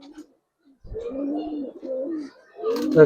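Cooing from a large male pigeon, a prized breed kept by a fancier, rises in a few soft, throaty bursts close by, with brief voices and handling noises around it.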